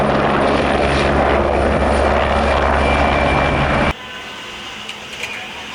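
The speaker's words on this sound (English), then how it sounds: "This is army helicopter." An army helicopter roars loudly and close, its engine and rotor producing a dense steady drone with a low thumping pulse, then cutting abruptly to a much quieter distant hum.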